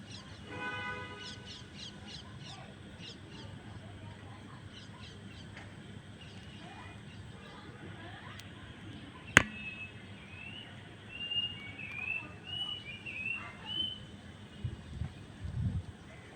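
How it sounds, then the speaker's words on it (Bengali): Birds chirping and crows cawing in a rooftop garden at dawn after rain, faint calls over quiet ambience, with one sharp click midway and louder caws near the end. "মাঝে মাঝে পাখির কিচিরমিচির শব্দ শোনা যাচ্ছে"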